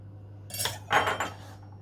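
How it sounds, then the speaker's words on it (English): A knife cutting pastry down the centre on a board while making sausage rolls, two short close scraping taps with quiet between, no speech. "we need to cut a line down the centre"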